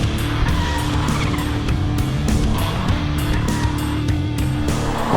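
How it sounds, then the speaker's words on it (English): Mercedes-AMG A45S drifting sideways out of a corner in second gear on the power, a loud continuous engine drone under a harsh tire squeal, with brief cuts in the screech. "Chuck it into a corner here, second gear, on the power, instantly sideways."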